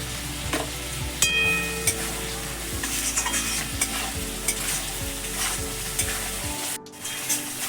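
Spice masala with turmeric powder and sugar sautéing in a pan for a raw jackfruit and prawn curry, a steady close sizzle with repeated scraping stirs of a spatula at a regular rhythm and no voices.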